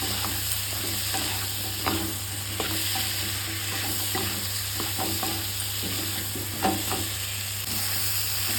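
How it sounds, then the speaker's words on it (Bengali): Pointed gourd, tomato and chili powder sautéing in a pan, with a steady sizzle and repeated scraping stir strokes at close range, no talk. "এটা সুন্দর করে এখন আমি কষিয়ে নেব।"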